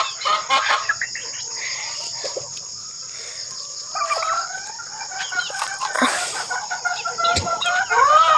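Chickens at a free-range farm cluck and call from inside a coop, with repeated squawks and chirps layered over one another at close range and fairly loud throughout, with no talking.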